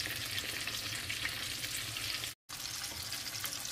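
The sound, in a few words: eggplant (brinjal) frying in a pan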